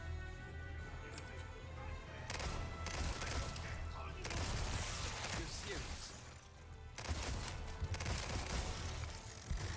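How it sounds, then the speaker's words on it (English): Rapid turret gunfire in the Resident Evil 4 Remake, bursts of dense crackling shots and impacts that keep coming in waves across the stretch, loud and continuous with brief lulls. "He hit me with a turret."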